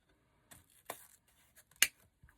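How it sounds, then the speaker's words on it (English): Scissors cut through craft material for a candy cane wreath in a few quick, scattered snips, one sharper cut standing out in a quiet room. "I can cut this."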